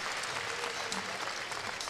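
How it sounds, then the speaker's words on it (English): At the Vegas Shoot archery championship shoot-offs in Las Vegas, a crowd applauds an archer with steady, dense clapping that holds at an even level throughout. "Sergio Pagni getting a nice round of applause from the fans here in Las Vegas"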